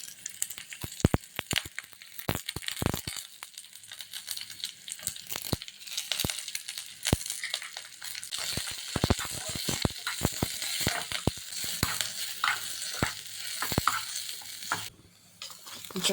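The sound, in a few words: mustard seeds, fenugreek and shallots spluttering, being stirred in pan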